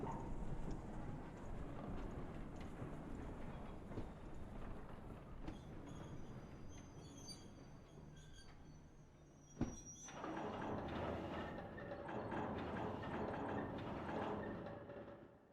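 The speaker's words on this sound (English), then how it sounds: "the brake squeal on this was absolutely fantastic with the handbrakes on" In the video game Train Simulator 2019, GC rail wagons with handbrakes on rumble steadily with high-pitched brake squeals ringing above, then a sharp clunk and a brief lull before the rolling noise returns.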